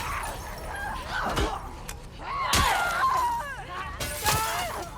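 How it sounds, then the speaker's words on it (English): Footsteps crunching over broken glass in The Last of Us Part II, sharp tinkling shatters recurring every second or so, with a dog barking and yipping between them. "can you see how they're walking through the glass? I can see it, but it's making a lot of noise"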